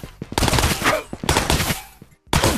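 Gunshots in the VR shooter Ghosts of Tabor, rapid loud bursts of automatic fire close by, broken by a brief pause before another volley resumes.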